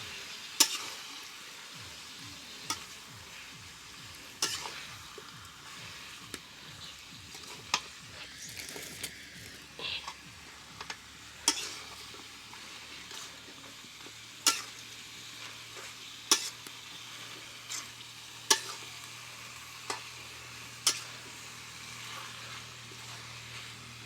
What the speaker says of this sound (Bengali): ভালো করে নেড়ে দিতে হবে।